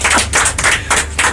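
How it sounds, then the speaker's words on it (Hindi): A small group claps for themselves during an online antakshari singing game, several short bursts of hand claps in an uneven rhythm, close and fairly loud. "एक बार फिर से अपने लिए ताली बजा लो यार"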